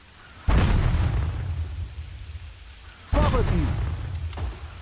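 Gunfire and explosions on a battlefield in Ratten Reich: two loud booming bursts a few seconds apart, each trailing into rumbling, crackling decay, with a voice heard among the noise.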